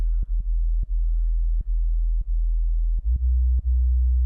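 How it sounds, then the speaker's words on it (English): A steady, deep sub-bass sine wave in a drum and bass mix, with a faint higher harmonic from saturation above it, broken by brief clicks at irregular intervals, no voices. "clean sine wave with a single kind of upper harmonic"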